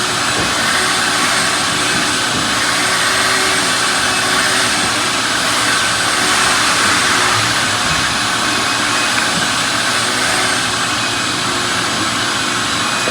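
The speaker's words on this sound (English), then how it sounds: "Didn't know they were going to be vacuuming today." A vacuum cleaner runs close by as a steady, loud, unbroken roar with a high whine, holding at an even level throughout with no voices.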